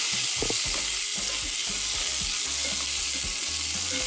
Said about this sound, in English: we're gonna brown them and then we're gonna set them aside